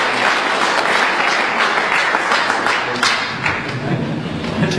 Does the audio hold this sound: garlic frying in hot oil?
no